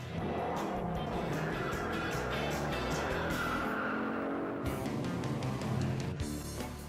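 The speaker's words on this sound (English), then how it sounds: "Screeching rubber through turns, roaring down back streets and country lanes" Classic Detroit-built American muscle cars roar past with screeching rubber through turns, engines loud and sustained, and tyre squeals rising over the continuous growl.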